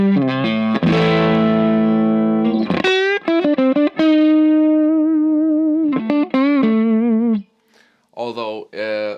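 Electric guitar played through a Vox AC4 C1-12 valve amp set slightly overdriven, loud and close: chords and sustained single notes with wavering vibrato, ringing out before brief pauses and a short choppy phrase at the end.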